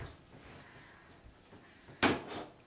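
A sofabed's storage drawer is pulled open: a quiet room, then one short, sharp sliding knock near the end that fades quickly.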